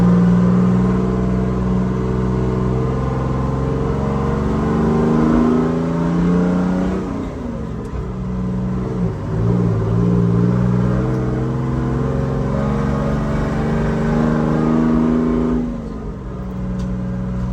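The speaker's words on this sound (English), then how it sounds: "Okay, you want to go speed up and go for third now?" A 1973 American LaFrance Pioneer fire truck engine accelerating, a loud, steady low drone rising in pitch through the gears, with a brief dip at a shift midway and another near the end, running continuously without talk.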